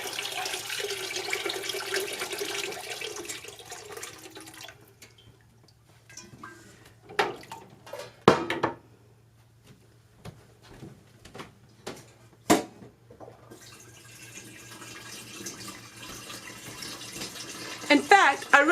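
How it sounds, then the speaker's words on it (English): Water pours into a canning pot holding jars, a close, rushing splash at the start and again near the end, with quieter clatter and a voice talking in the middle. "we're going to pour the water in till it's across the top"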